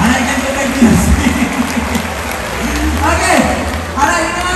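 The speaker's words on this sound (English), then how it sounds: "let's give you a big round of applause" Applause from a zoo audience at a California sea lion show rises under a presenter's voice, a moderate, steady patter of clapping that fills the short moment while speech carries on above it.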